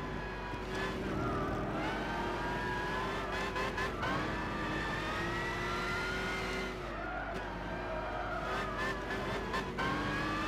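A historic fan race car in Gran Turismo 6 races continuously at close range: its engine whines and revs with rising and falling pitch through gear changes, with tire squeals, loud throughout.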